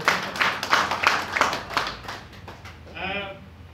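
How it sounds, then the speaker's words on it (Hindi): Audience at a Goswami Tulsidas Jayanti gathering claps to welcome a guest, a burst of rhythmic clapping that fades after about two seconds, with a voice speaking toward the end. "और जितेंद्र जी के लिए एक बार जोरदार ताली आप सब बजाइए।"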